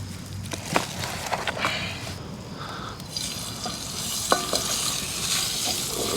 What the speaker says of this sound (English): Let them get a nice sear over here before we finish them off in the oven.